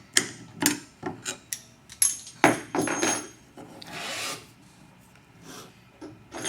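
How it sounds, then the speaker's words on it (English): A 10mm open wrench works a brake cable nut: a run of short, sharp metallic clicks and scrapes in an irregular rhythm, then a longer grinding rasp, close and fairly quiet, with no voices. "Then, using a 10mm open wrench, loosen the nut."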